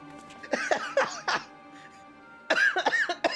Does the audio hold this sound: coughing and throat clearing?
yes